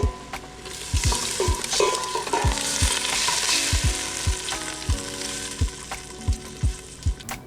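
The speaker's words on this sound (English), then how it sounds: "So I'm ready to add my tomatoes to the pot" Hand-crushed Cento whole peeled tomatoes go into a hot pot for cioppino, a steady sizzle with a regular run of spoon strokes knocking and scraping, close up.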